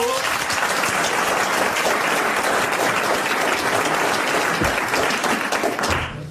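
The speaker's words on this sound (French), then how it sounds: "Vous applaudissez Madame Grandrue, bravo." A TV show studio audience applauds loudly and continuously for about six seconds, a dense wash of clapping that fades slightly at the very end.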